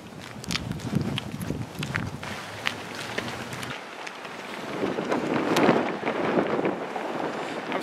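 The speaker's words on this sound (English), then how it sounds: "it's pretty windy out here" Wind gusts buffet the microphone outdoors with a broad rushing roar, rising and falling, alongside scuffing steps and faint movement noise.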